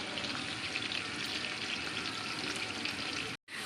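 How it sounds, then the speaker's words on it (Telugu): Washed salted fish bones frying in oil in a pan, a dense, even sizzle that holds steady and cuts off abruptly near the end. "మంచి కడిగి పెట్టుకున్న ఉప్పు చేప బొక్కలండి ఇట్లా ఆయిల్లో వేసుకోవాలి"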